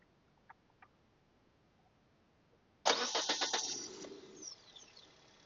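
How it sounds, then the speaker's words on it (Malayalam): A Maruti Suzuki SX4 with a 1.6-litre petrol engine sits silent with a couple of small clicks, then cranks and catches abruptly, roaring up briefly before settling back into a quieter, even idle. "ഇതാണ് നമ്മളുടെ വണ്ടിയുടെ എഞ്ചിന്റെ ശബ്ദം വരുന്നത്"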